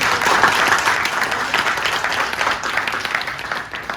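An audience at a monthly bonanza event claps and applauds loudly and continuously, a dense steady wash of hands with no break over a few seconds.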